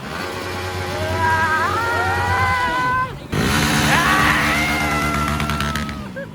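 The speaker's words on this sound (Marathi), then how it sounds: "गाडीचा आवाज दाखव गाडीचा आवाज" A vehicle engine hums and revs steadily throughout, with a brief cut near the middle, while voices and other noise sit over it.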